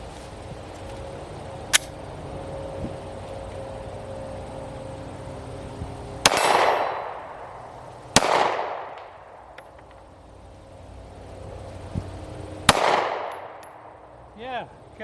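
Gunshots at an outdoor gun range: three loud, sharp reports spaced a few seconds apart, each trailing into a rumbling echo, with a fainter crack early on and quiet background between shots.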